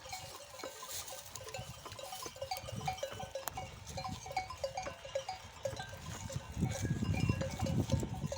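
A flock of sheep with lambs on open pasture bleats in scattered, overlapping calls of varying distance, with faint bells and a soft rustling background, growing busier toward the end.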